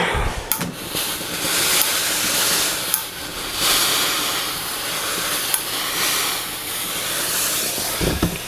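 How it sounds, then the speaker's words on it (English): A steam iron presses fabric for a sewn Gucci-style jacket, letting off long, loud hissing bursts of steam. Brief clicks and thumps mark the start and end of the bursts over about eight seconds, with no talking. "there's a lot of heat, a lot of steam"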